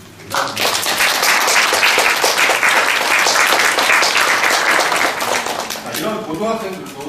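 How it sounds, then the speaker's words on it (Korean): An audience at a conference gives sustained, dense applause for a high school student, many hands clapping loudly for several seconds before it tapers off. "한번 박수 좀 한번 부탁드립니다"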